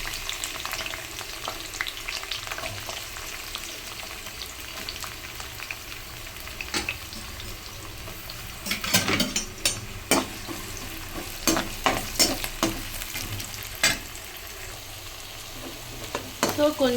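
Onions frying in hot oil for a crab masala curry, a soft steady sizzle that turns busier partway through as the spoon scrapes and stirs the pan in irregular knocks.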